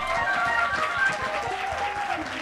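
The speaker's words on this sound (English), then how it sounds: "Clap your hand for Sister Gloria first." A church congregation claps along in a quick, fairly even rhythm, a brief burst of hand claps over a soft murmur of voices and organ-like tones.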